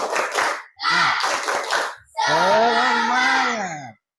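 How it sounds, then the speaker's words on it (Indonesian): A classroom of students performs the rhythmic tepuk semangat clap, bursts of group clapping in a patterned beat followed by a long, loud chanted group shout. "coba kita tepuk semangat dulu"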